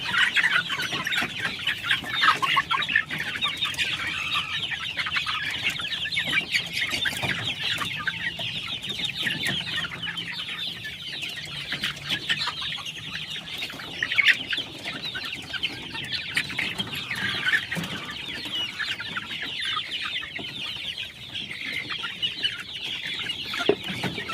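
A crowd of 41 AKY chickens clucking and chattering continuously, many birds at once, close and busy throughout.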